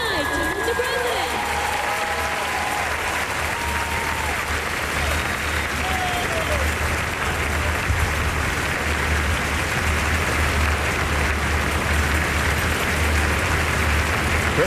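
Sustained, dense applause and cheering from a huge outdoor crowd at the National Day Parade on the Padang in Singapore, broad and steady at full volume for the whole stretch, with faint voices and whistles mixed in.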